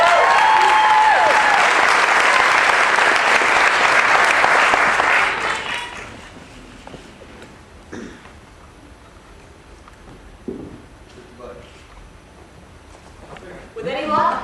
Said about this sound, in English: Let's have a big round of applause for Megan Torrance.